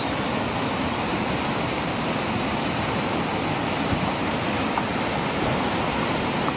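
River water flows past a small village near Vijaynagar in India's North East, a loud, steady broadband rush that never lets up, heard close and alone without any voices.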